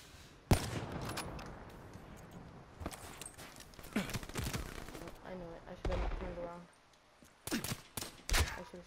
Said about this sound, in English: Shot them with the Galil